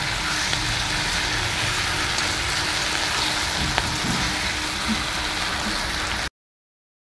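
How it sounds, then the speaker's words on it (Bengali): Duck meat and spice paste are sautéed in a pot over a wood fire at medium heat, giving a steady, dense sizzle and crackle that runs without a break for about six seconds before stopping abruptly. "এখন মিডিয়াম আছে এটাকে কষানো হচ্ছে, খুব হাই ফ্লেম দিইনি,"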